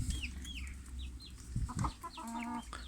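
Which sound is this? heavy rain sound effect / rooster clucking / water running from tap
rooster clucking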